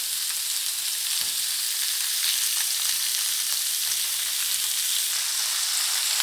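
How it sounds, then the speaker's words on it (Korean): Tofu pan-frying over high heat sizzles in a continuous, even hiss, steady and fairly close, with no voices. "두부는 좀 더 센 불에다가 소리가 지글지글 하도록 해서 구워줍니다."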